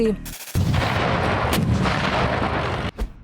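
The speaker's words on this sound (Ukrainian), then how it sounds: "Автоматична 40-мм гармата Бофорс спарена з кулеметом." A rapid burst of heavy 40mm Bofors autocannon fire from a CV-90 infantry fighting vehicle booms and rumbles continuously for a few seconds, loud and close, ending with one last thump.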